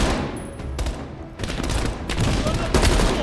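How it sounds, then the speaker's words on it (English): Sustained heavy machine gun fire from a ridge in Call of Duty Black Ops Cold War rolls on as a dense, loud fusillade with sharp bursts throughout, and voices are faintly mixed in beneath. "Heavy MG on the ridge."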